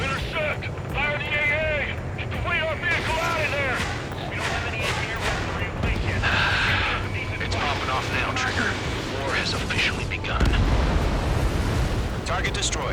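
A destroyed target explodes in Ace Combat 7 in a loud, rumbling blast within a dense battle soundscape of engines and gunfire, with radio voices talking over it.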